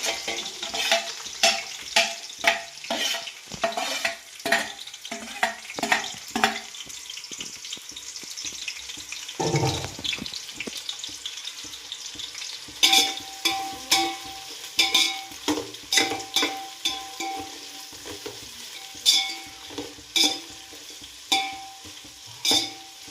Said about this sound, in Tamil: இப்போ வந்து வெங்காயம் போட்டுக்கலாம்